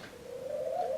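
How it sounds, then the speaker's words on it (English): Pet pigeons or doves cooing indoors in the background, a soft, steady low coo that swells slightly and holds for about a second, with no talking over it. "There goes one now, but they're cooing and they're laughing."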